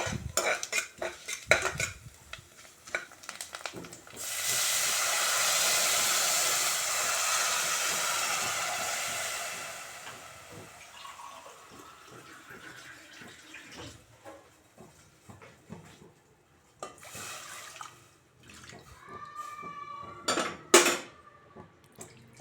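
Poha (flattened rice) is roasted in a pan for milk kheer, with water then added to a pressure cooker. Metal utensils clink and scrape, a loud hissing rush swells for several seconds, then clatter and handling sounds follow.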